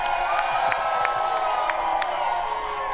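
Studio audience cheering, whooping and clapping for guest Trey Songz, a steady crowd roar with bursts of shouts throughout.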